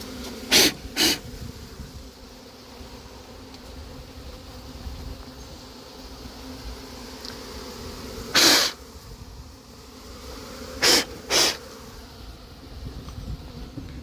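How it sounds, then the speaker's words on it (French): A honeybee swarm being collected outdoors in Villeneuve-Saint-Georges gives a steady, close buzzing hum throughout, broken by several brief louder bursts as bees fly past near the ear. "Ah ouais, il y a des abeilles partout."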